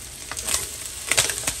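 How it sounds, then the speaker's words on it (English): Spam frying in a pan, with soft sizzling and a few sharp crackles and pops over about a second and a half, heard close with no talking. "It's just cooking Spam, frying it."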